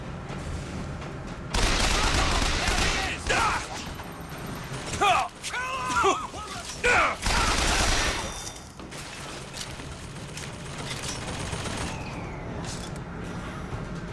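Gunfire in Bioshock Infinite, loud bursts of shots in rapid clusters with booming impacts, alternating with quieter stretches, while a player talks over the action.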